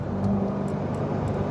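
A 2019 Corvette Z06 at a drag race, heard from inside the car as it pulls hard: a steady, loud engine roar and road rumble throughout with a faint high whir, no talking.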